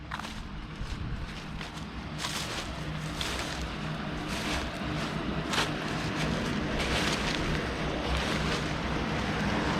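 Steady rushing water noise of Mill Creek in Mill Creek Park, Youngstown, fills the whole stretch, broad and continuous, with some wind buffeting the microphone and no voices.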